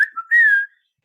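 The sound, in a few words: human whistle imitating a call, sounding like a bird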